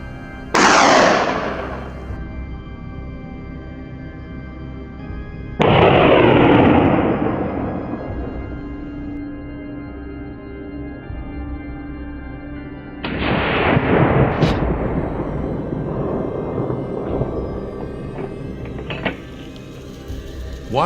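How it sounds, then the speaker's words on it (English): Three loud gunshots ring out at intervals during a wild boar hunt on open farmland, each one booming and echoing away before the next, with fainter rustling between them. "A series of shots rang out, each bullet accurately taking down a prey."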